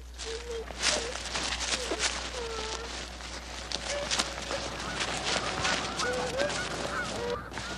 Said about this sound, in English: We're looking at the geese.